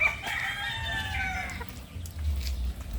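A young cockerel crows loudly and nearby in a long, wavering call, with low farmyard rumble and scuffling continuing after it fades.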